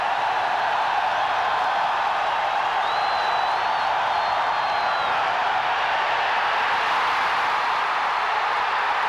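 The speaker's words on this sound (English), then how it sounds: "When you hear this crowd if they stop him." A steady, dense roar from a football stadium crowd at an Auburn vs Ole Miss college game in 1996, sustained at full volume without letup from start to finish.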